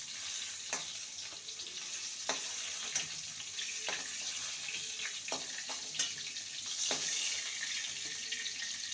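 Pointed gourd pieces fry in oil in a pan with a soft, steady sizzle, broken by several sharp clinks and taps as pieces are lifted out.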